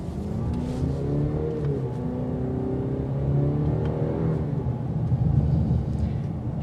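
A 2022 Cadillac CT5 sports sedan's engine builds and revs steadily as it accelerates, a continuous rumbling drone that swells slightly toward the end.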